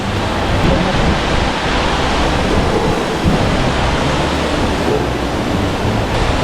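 A waterfall in Seoraksan falls into a round pool, roaring in a steady, dense rush that never lets up, loud and close.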